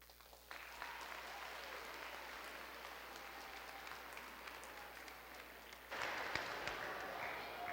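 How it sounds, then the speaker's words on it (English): Applause from an audience at a Teacher Appreciation Day event, a fairly quiet steady crowd of clapping that swells louder near the end, with no talk over it. "Very quickly, another round of applause for Julian Brill and Li Huiwen."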